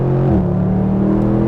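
A Mercedes-Benz SLS AMG Roadster engine pulls hard under acceleration, a loud, steady low growl that climbs in pitch with a brief gear-shift dip partway through, close and continuous with no talking.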